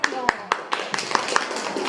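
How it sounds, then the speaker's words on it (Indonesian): A handful of people clap in a quick, fairly even rhythm, sharp individual claps close by, with talking mixed in beneath. "Tepuk tangan buat kelompok Iowo."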